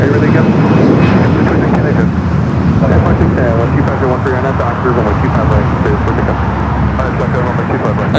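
A Qantas Dreamliner airliner taxis at LAX, a loud steady jet engine roar with road traffic noise mixed in, while a voice talks over it throughout.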